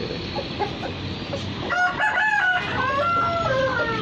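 A jet black aseel rooster lets out a full, loud cock-a-doodle-doo crow close by, rising and falling in a drawn-out sequence over faint background noise.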